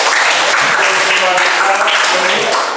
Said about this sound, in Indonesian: Baik, mari kita beri aplaus.